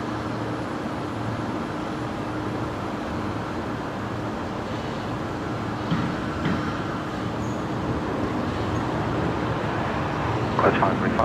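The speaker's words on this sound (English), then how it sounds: "this is the Qantas 126 service that's usually operated by the A330. Today operated by a 737-800" A Qantas Boeing 737-800 at Brisbane Airport, a steady broadband jet roar heard from a distance that holds level throughout, with faint scattered sounds of the airport setting.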